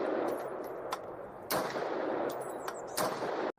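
A plastic toy gun plays electronic gunfire, a hissing burst of rapid shots with louder cracks recurring about every one and a half seconds, heard close and moderately loud before cutting off abruptly.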